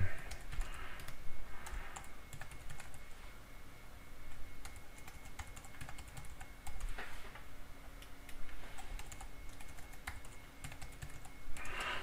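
Steady, close typing on a computer keyboard while filling in a Google account sign-up form, with quick irregular key clicks and a few louder taps, no talking.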